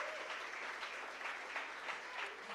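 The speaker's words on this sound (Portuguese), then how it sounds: "Dá uma salva de palmas para Jesus" Soft, distant applause from a church congregation, an even wash of clapping hands that stays steady throughout.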